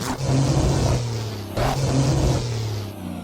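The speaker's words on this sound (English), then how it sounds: "the launch control sort of rev limiter sound effect here" A lumpy big-rig truck engine in American Truck Simulator bounces off a launch-control rev limiter, two long loud droning holds broken by a sharp cut and re-rise, close and alone.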